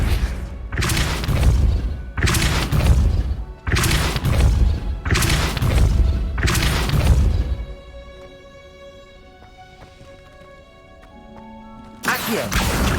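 Depulso force-push spells land in the Hogwarts Legacy video game as a run of six heavy, booming thuds in quick rhythm, then a quieter lull of ambient game music before one more loud impact.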